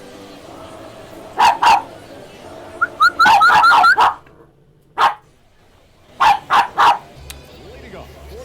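Dogs bark loud and close in several bursts. A quick cluster of barks is followed by single yips and then another run of three barks, with pauses between them.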